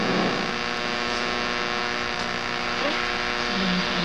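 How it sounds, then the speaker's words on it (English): An original 1967-72 truck AM/FM radio, powered up, gives off a steady, close electrical hum with faint static and no voices, holding constant throughout. "Hopefully you can hear it kind of humming there."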